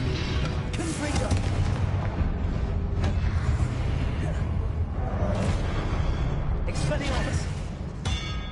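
Confringo explosion spells in Hogwarts Legacy burst as repeated heavy booms and crackling blasts over dense, continuous combat noise, with a player's voice speaking over the action.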